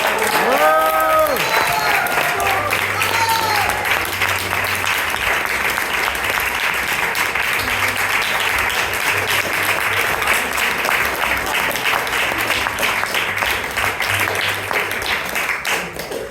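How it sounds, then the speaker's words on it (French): Sustained audience applause for improv players at a first improvisation cabaret, dense and loud throughout with some whistles near the start, the crowd clapping steadily without letting up. "on peut encore les applaudir très très fort"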